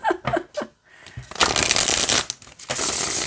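A tarot deck is riffled and shuffled in quick, crisp bursts, close and clear, after a few soft taps.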